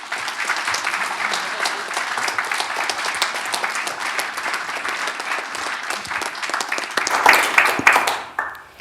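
A university lecture audience at Southampton applauds to welcome a professor for her inaugural lecture, sustained close clapping from many hands that swells briefly near the end before fading out.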